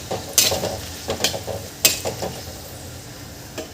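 Potatoes sautéed in a pan, with several sharp spoon scrapes and clinks against the metal over a faint background sizzle, busier at first and quieter toward the end.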